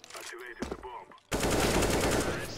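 Brief voices give way to a sudden burst of loud, sustained rapid-fire gunfire in a video game, continuing to the end.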